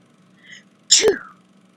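A single sharp sneeze, close and loud, preceded by a soft intake of breath in an otherwise quiet room.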